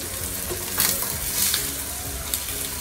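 Tofu sizzling steadily in hot oil in a pot while being stirred and turned over, a constant close frying hiss with a few louder scraping stirs and no talking.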